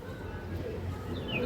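A pigeon coos nearby in soft, low repeated murmurs, with faint chirps from other birds and background noise.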